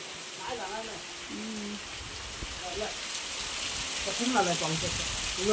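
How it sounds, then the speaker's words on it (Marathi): Heavy monsoon rain falls steadily, a constant hiss that swells slightly toward the end, with faint voices and other small sounds audible now and then underneath. "आत्ताच सुरुवात झाली चांगला पडतोय चांगला पडतोय पाऊस"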